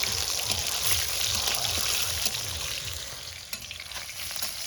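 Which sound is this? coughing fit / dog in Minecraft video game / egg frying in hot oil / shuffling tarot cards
egg frying in hot oil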